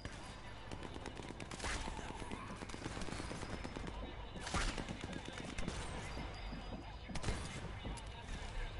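Gunfire in the stealth shooter Sniper Elite 4 on PS4, with shots cracking out over a dense, busy game soundscape and a few louder bursts standing out among the steady background clatter.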